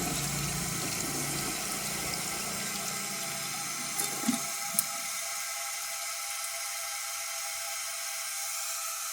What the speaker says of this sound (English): I'll just give it another flush and see if it can take it.